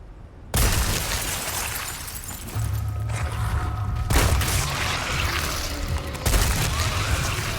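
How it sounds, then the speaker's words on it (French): Grenade explosion in the Resident Evil 4 Remake video game, a loud burst with a sharp onset, followed by sustained rumbling debris and a second blast-like surge, with no talk over it. "Oui, grenade."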